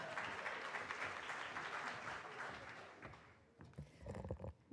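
Audience applause after a panel facilitation at a Brown v. Board 70th-anniversary event: a dense, steady wash of many hands clapping for about three seconds, then thinning into scattered claps and faint murmur.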